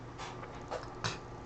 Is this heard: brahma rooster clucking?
no